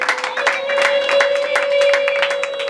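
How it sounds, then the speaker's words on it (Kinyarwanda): A church congregation at a wedding applauds, quick overlapping claps and crowd murmur close by, with a sustained tone humming underneath throughout. "Amashyi sabe n'abarindi bashyiremo amashyi yabo ntacyo bitwaye."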